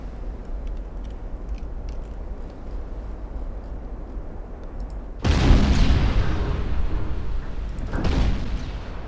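Ship exploding in the naval warfare game Ultimate Admiral Dreadnoughts, set in 1910 with a German fleet: a heavy booming blast bursts out over steady background noise, then a second, smaller boom follows a few seconds later.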